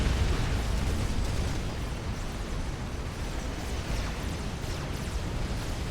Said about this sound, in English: Mobile artillery combating this Ravager play.